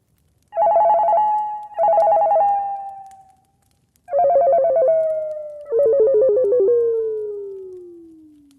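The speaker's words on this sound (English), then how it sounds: "I remember hearing my cell phone ringing throughout the night." A cell phone ringtone sounds in four loud, tonal bursts, each a sustained warbling tone that sags in pitch. The last burst trails off slowly, and there is silence between the rings.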